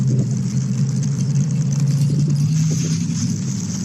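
A car engine runs steadily up close as the driver shifts up into third gear, a continuous low hum with small shifts in pitch and no sharp revving.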